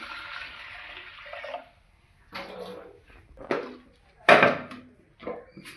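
Water pours into a pot with salted vegetables for a Kerala erissery, a steady splashing rush lasting about a second and a half, followed by a few separate knocks and clatters of utensils nearby.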